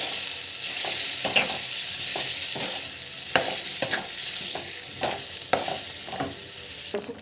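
Spinach masala frying in a pan while being stirred, with a steady bright sizzle broken by repeated scraping strokes of the spoon at an irregular rhythm, close and fairly loud, no talking.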